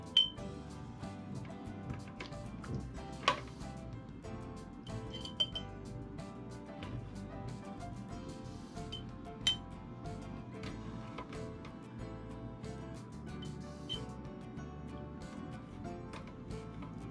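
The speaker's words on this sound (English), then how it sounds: "I'm going to gently put this in my jars." Sweet potato pieces dropped into glass canning jars in a home kitchen: scattered light clinks and taps over a steady low hum and faint background music, with a few sharper glassy knocks spaced apart.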